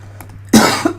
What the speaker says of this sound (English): My cough is kicking up